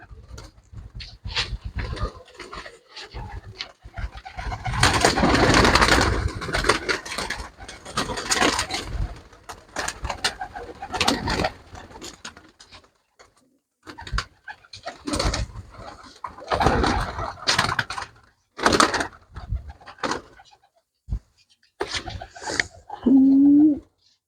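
Pigeons kept for the pigeon-flying hobby coo and stir while each bird is checked by hand, giving a scattered, busy stretch of wing and body noise with brief calls close by.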